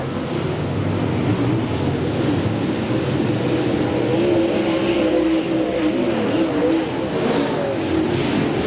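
Race cars roar around a short track in a steady, dense engine wash that holds at an even, fairly loud level, with a low droning whine and no distinct pass-bys or voices.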